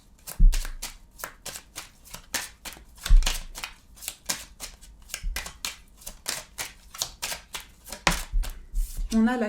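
Small Lenormand oracle cards are shuffled by hand in quick, rhythmic riffling bursts with soft taps and thumps between them, heard close up.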